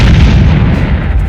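A bomb explosion sound effect: a loud, sustained deep rumbling boom with heavy low-end roar that fills the whole moment and fades slightly toward the end, with no voices.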